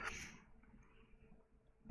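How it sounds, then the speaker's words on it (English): A single sudden sneeze bursts out at the start, then fades into a quiet, breathy tail with a faint rustle near the end, close to the microphone. "That was a sneeze out of nowhere."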